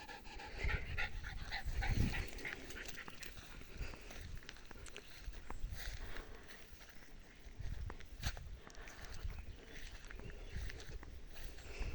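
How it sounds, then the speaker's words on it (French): A dog pants quickly and moves around nearby, its breathing and light footsteps continuous against faint background noise. "voilà ma chienne qui m'a retrouvée"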